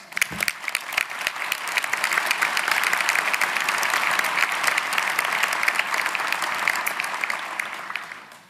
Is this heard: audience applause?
yes